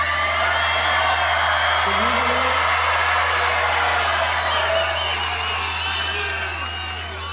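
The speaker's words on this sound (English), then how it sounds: "Do you hear that crowd back there?" A huge Texas rally crowd roars and whoops continuously, a loud dense wall of cheering and yelling that stays strong throughout and eases slightly toward the end.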